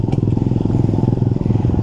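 A motorcycle engine struggles to run on a cold morning after rain, its idle a loud, close, uneven low chugging that putters rhythmically throughout.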